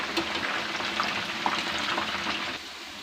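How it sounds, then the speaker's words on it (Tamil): Chicken 65 pieces frying in hot oil in a pan, a dense, steady crackling sizzle heard up close with no talk, easing slightly near the end. "ஒரு பக்கம் இந்த மாதிரி நல்லா ஃப்ரை ஆனணும்"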